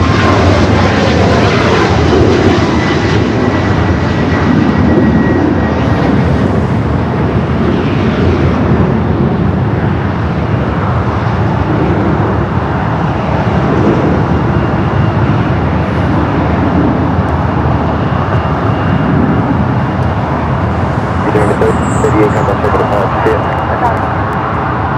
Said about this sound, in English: That was the 737 MAX 8 heading to SFL flight 3938.